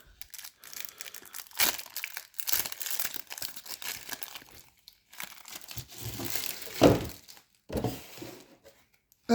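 Plastic wrapping crinkles and tears as Magic: The Gathering commander card packaging from a Foundations bundle is opened by hand, in irregular close bursts of crumpling with short pauses between.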